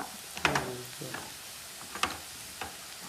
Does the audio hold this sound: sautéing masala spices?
yes